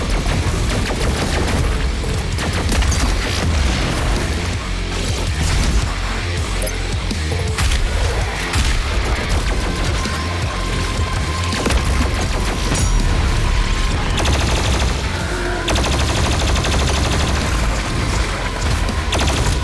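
Doom Eternal combat, dense and loud: continuous overlapping enemy gunfire, booms and mechanical clatter filling the whole stretch without letup.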